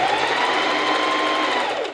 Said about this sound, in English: Walk those first few stitches, and then I can go ahead and sew the rest of the seam.